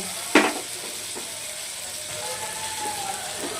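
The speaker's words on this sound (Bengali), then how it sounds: "দিয়ে দেবো আর দেবো অল্প সরষের তেল। দিয়ে দেবো বাকি সব কিছু, পেঁয়াজ, রসুন" Onion and garlic frying in mustard oil in a pan, giving a steady close sizzle with an opening clatter as a utensil stirs, continuous throughout.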